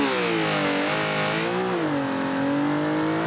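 A Porsche engine in the video game BeamNG.drive revs steadily, its pitch rising and falling smoothly, loud and continuous.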